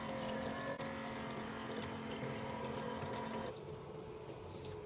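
Water running from the sink tap in a Ducato motorhome, a steady close rushing flow that cuts off abruptly near the end, leaving a quieter hum.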